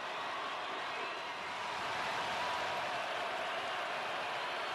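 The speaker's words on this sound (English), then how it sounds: "the crowd goes wild." A crowd cheers and applauds as a presidential candidate takes the stage at a campaign rally in Iran, a broad, steady roar heard from a distance that swells slightly midway, without distinct voices.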